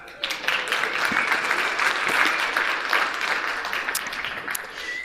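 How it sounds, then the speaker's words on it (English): Warm audience applause at the Anarchapulco 2020 event, rising quickly into a thick sustained clapping crowd that holds steady for several seconds before tapering slightly. "You can clap for that"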